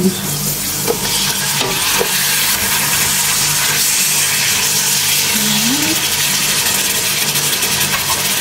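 Chicken pieces for biryani hit a hot pan and fry in a loud, continuous sizzle, close and steady, with stirring scrapes near the start.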